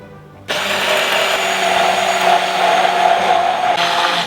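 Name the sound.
blender mixing Cajun spice and vegetable oil dip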